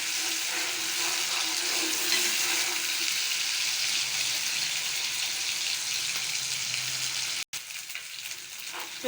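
Onions already half browned fry with a spoonful of garlic, ginger and green chili paste in a pan for a potato egg curry, giving a steady, loud sizzle with a brief break near the end.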